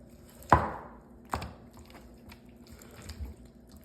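A knife chops through chicken liver on a board for Filipino tinola, giving two distinct close, sharp thuds about a second apart, then softer taps and faint wet kitchen sounds.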